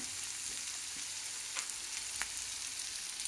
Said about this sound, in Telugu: ఇది వేయించుకున్నామండి. ఇది తరిగి పెట్టుకున్న తురుము, క్యాబేజ్ తురుము